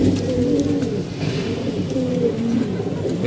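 Pigeons coo in a steady, low, rolling murmur, several birds overlapping close by in a loft during cold rainy-season weather, with no talking.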